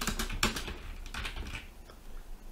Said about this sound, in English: you can keep on typing